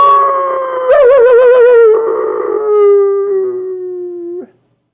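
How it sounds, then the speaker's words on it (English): Loud, wavering howls of wild animals, voiced in a storytelling performance: a sustained howl rises, wobbles with a quavering vibrato, then slides down and holds before cutting off abruptly, with no speech over it. "Wild howling."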